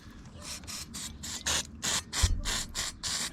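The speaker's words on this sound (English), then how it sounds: "let's put a bit of parts cleaner on there" Aerosol parts cleaner sprayed onto an engine in short repeated bursts, about eight quick hissing spurts in a row with brief gaps, close and fairly loud, with a light clunk midway.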